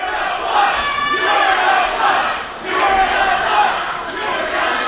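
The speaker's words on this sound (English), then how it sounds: "The crowd accusing Anthony Greene of being no fun" Wrestling crowd at an Andrew Palace vs Anthony Greene match chanting loudly in rhythmic, repeated bursts, a dense mass of voices filling the room with brief dips between phrases.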